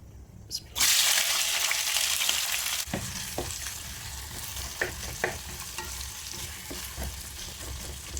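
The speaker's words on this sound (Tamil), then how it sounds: "பெருசு பெருசாக கட் பண்ணி வச்சு வெங்காயம் போட்டுக்கணும்" Large-cut onions drop into hot oil with fennel seeds in a pan for a coriander chicken gravy, bursting into a loud sizzle that settles into steady frying punctuated by spoon scrapes and taps, with no talking.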